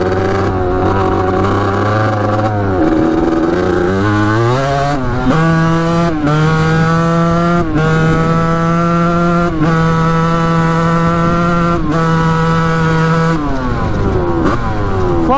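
A vintage Kawasaki dirt bike engine with its exhaust pipe repaired runs loud and close, a buzzy two-stroke drone that idles, then revs up and settles at a steady pitch, with repeated clicks and brief dips as it is throttled.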